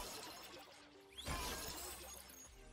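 A shatter effect from the character Ying's illusion in a video game, a bright glassy crash that sweeps up and rings out over a steady layer of game ambience, faint overall.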